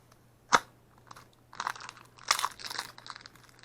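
Plastic wrapping on a slime container gets handled up close, with a sharp crinkle followed by several quiet bursts of crackling and rustling.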